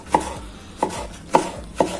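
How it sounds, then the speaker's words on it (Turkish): A knife chops on a board four times at an even, unhurried pace, each stroke a crisp, close knock with quiet between. "Onları ben hızlıca doğrayayım."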